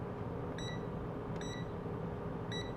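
A digital multimeter on its continuity setting beeps while testing a good fuse: three short, clear electronic beeps spaced about a second apart over a steady background hiss.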